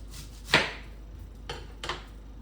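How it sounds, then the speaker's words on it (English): A knife chopping onion for Louisiana snapping turtle gravy, three soft, crisp cuts against a board, the first strongest and the later two quicker and fainter, close and quiet with no talk. "dice it up however you want to do these onion"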